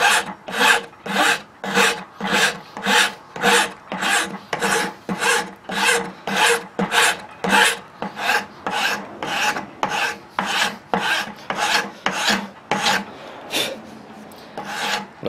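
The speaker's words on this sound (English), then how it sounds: "But you can tell when you get down to the metal, it'll make a different noise." A rasp files a knife blank from the Fox Ridge Arms Flint and Steel kit, working through wood toward the metal in a steady back-and-forth rhythm of about two dozen scraping strokes, close and alone.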